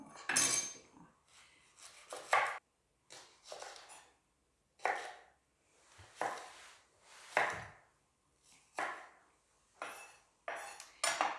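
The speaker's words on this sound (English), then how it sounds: "Then I'm going to cut up the leeks." Leeks are chopped with a knife on a cutting board for a potato and leek soup, a series of crisp, close slicing cuts in irregular bursts with brief pauses between them.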